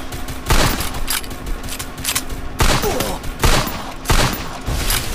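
Rapid bursts of gunfire in the Free Fire battle royale game, several loud volleys separated by short pauses over steady background game ambience.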